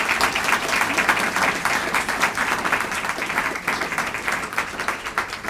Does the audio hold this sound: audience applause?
yes